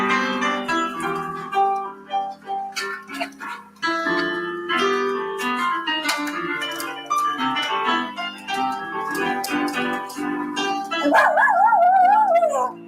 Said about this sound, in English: When the dog sings along.